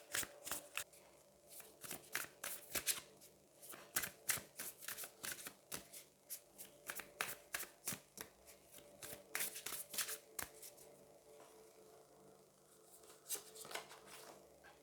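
Tarot cards are shuffled by hand in repeated crisp riffling bursts, close but soft, with short pauses between rounds and no talking.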